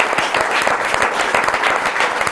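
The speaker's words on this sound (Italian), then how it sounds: "Un applauso a Gianfranco Bardella." Dense, steady applause from a studio audience at a regional Italian sports-federation event, filling the whole short stretch with continuous clapping and no talk over it.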